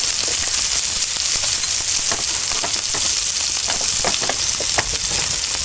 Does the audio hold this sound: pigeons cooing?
no